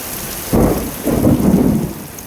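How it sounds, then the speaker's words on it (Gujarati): Heavy unseasonal rain falls on open farm fields, its loud rushing roar swelling in two strong surges before easing back to a steadier wash. "જોઈ લો મિત્રો, જોરદાર વરસાદ ચાલુ થઈ ગયો."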